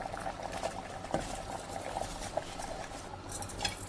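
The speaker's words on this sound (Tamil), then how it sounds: "இப்போ வந்துட்டு தண்ணியெல்லாம் நல்லா கொதிக்குதுங்க" Water boiling in a pot before basmati rice is added: continuous soft bubbling and popping, faint and steady throughout, with no voices.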